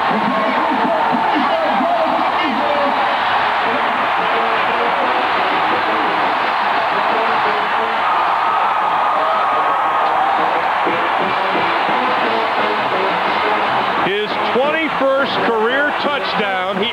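Football stadium crowd roaring for a Kansas State touchdown against Nebraska, a loud, sustained wash of cheering that swells near the end, with an announcer talking over it.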